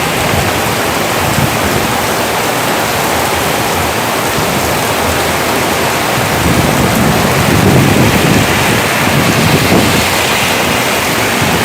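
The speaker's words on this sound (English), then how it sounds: "It's pouring now." Heavy rain pours steadily in a thunderstorm in Miami Beach, a dense continuous roar of falling water that swells slightly midway, with no voices.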